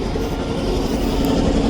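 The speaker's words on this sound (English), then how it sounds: "The train's just switching up near me here." A train switches cars in a Canadian rail yard, rumbling steadily with faint rolling clatter from the wagons, fairly close and continuous, with no one speaking.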